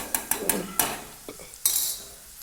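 Halved garlic cloves are stirred in a frying pan for dry bhindi masala, a few sharp scrapes and clinks of a spoon against the pan over a soft sizzle, close and fairly quiet, with no talking.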